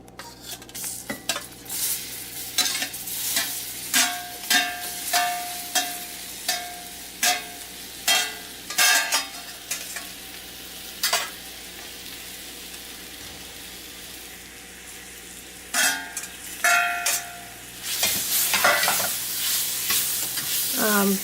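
Soya chunks, or meal maker, frying dry in a pan with spice powder, a steady sizzle punctuated by a fast, regular run of spatula scrapes and clinks, then a pause and more vigorous stirring.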